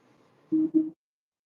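A phone buzzes indoors in two short, close vibrating pulses, with a quiet hum just before them and silence afterward.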